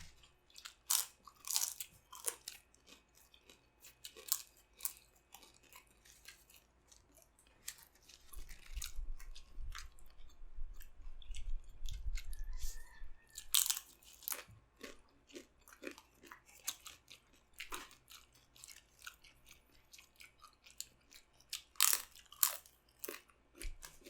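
Someone bites and chews crunchy shawarma up close, with repeated crisp crunches and wet mastication sounds that come in irregular bursts, with quieter gaps between them.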